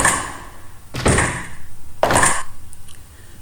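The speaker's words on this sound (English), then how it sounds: "When we open or closes a door, a sound is produced, just like this." A door thuds shut twice about a second apart, close and fairly loud, with a faint rhythmic rustle in between and no talk.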